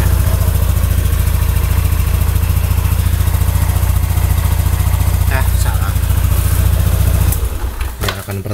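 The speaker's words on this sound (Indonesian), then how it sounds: "Ini suaranya halus kok, pertama nyalakan, soalnya ya termasuk kental." Two-stroke motorcycle engine, freshly refilled with Evalube 2T oil, idling steadily and loudly at close range for about seven seconds before the tone changes and a voice begins to speak.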